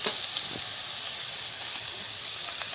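Fish-head curry with pumpkin and potato being stirred in a hot pan, a dense steady sizzle and hiss with a few soft scrapes from the spoon, close and unbroken.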